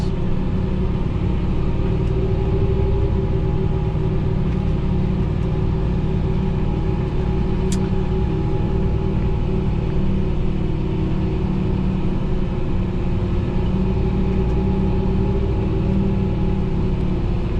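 A steady, low diesel engine drone rumbles continuously from inside the cab of a Fendt 1050 tractor, loud and unchanging throughout with no talking.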